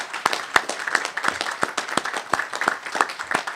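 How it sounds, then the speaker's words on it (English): A small graduation audience claps for the alumni board at a commencement ceremony, giving scattered, uneven hand claps that stay steady for a few seconds without voices. "Let's give it a round of applause to our alumni board"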